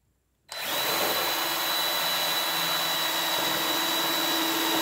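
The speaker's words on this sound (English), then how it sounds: "once you get it drilled, you should have three little holes" A power drill bores holes into a potato stacker, starting abruptly after brief silence and then running at a steady, loud, close whine with a constant pitch that holds for several seconds.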